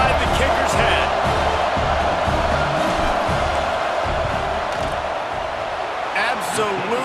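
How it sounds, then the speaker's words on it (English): A college football stadium crowd roars and cheers steadily as the kicking team lines up for a field goal, a dense, loud wall of noise with a broadcast commentator talking over it. "This crowd trying to do its part to get inside the kicker's head."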